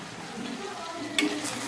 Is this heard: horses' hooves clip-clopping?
no